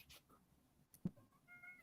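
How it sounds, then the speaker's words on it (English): A house cat gives a single short meow at close range, a brief loud call in an otherwise quiet room with faint background noise. "My cat apparently has a lot to say on the matter."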